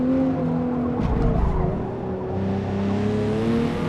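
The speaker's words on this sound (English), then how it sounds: "You hear all of that little bit of squeaking going on? It's very subtle, but there's squeaking." Faint, subtle tire squeal from a car sliding and understeering through a corner in the racing game Forza Motorsport, sitting under a steady, loud engine drone for the full stretch.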